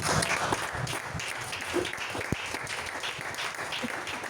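A church congregation applauds, a dense wash of clapping that stays steady throughout the hall, fairly loud and continuous, with a few louder claps standing out.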